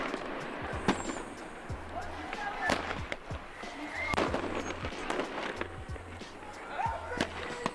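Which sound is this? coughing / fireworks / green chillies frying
fireworks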